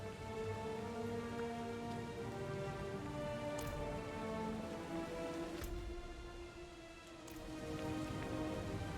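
Steady rain falls in the Diablo 4 game world, a dense continuous hiss of drops throughout, with faint sustained musical tones beneath and no speech.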